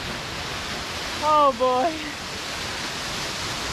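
A waterfall in a gorge rushes as a steady, broad hiss throughout, loud and close, while a voice briefly exclaims over it.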